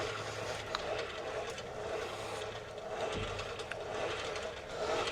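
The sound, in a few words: hand-cranking the turret traverse of a Chieftain tank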